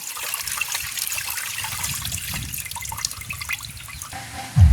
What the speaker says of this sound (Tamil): இப்போ இருக்க நாங்கள் நல்ல வடிவாக கழுவி எடுப்போம்